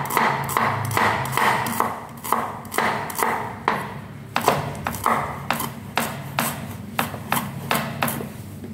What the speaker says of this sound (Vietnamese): Các bạn là thái băm cho mình cái phần hành thơm ra.